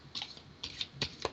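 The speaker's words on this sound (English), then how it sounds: "I'm giving them a nice shuffle and really getting them warmed up here for Cancer." Tarot cards being shuffled by hand, close and fairly quiet, with several brief papery riffling bursts in uneven rhythm and no talking.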